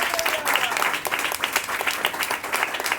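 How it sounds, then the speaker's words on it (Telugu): Applause from a church congregation during a sermon: a dense, steady burst of many hands clapping at moderate distance, continuing throughout with room echo. "గట్టిగా చప్పట్లు కొడితే"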